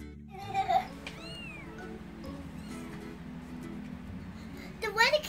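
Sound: kittens meowing

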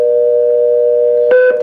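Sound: DTMF tones from pulse-to-DTMF converter on rotary telephone

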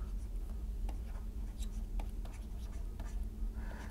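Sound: writing a formula by hand

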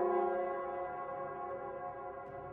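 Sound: plaza bell ringing in Wuthering Waves video game

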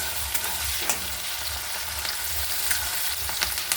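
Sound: frying curry leaves with spice paste

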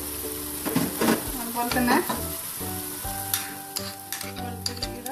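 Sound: ginger and garlic paste sautéing in oil

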